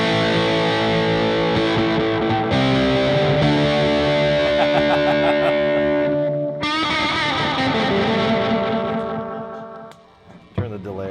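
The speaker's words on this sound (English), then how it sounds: "let's combine delay, reverb, and overdrive" An electric guitar through Donner delay, reverb and overdrive pedals plays sustained chords and notes, smeared by echoing repeats and a wash of reverb, loud and continuous before fading out.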